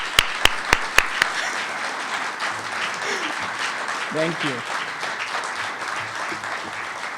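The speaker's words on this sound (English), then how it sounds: "again, please a big round of applause to them." Audience applause for a research lab team at an innovation awards presentation, a few sharp nearby claps up front, then softer scattered clapping fading under a brief spoken thank-you and quiet room talk.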